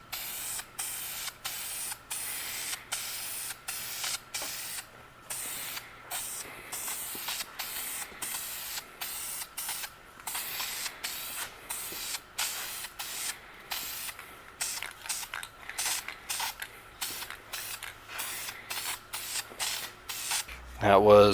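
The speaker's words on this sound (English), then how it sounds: "That was Duplicolor's ceramic primer, 500 degrees." Duplicolor 500-degree ceramic primer sprays from an aerosol can onto a 327 Chevy intake manifold part in many short bursts of hiss separated by brief pauses, ending in a louder clatter.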